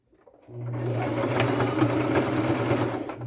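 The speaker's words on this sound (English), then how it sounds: "And I'll just sew across it." A sewing machine stitches lace onto a boho fringe lace purse, starting after a brief pause and then running as a steady, close mechanical whir that continues to the end.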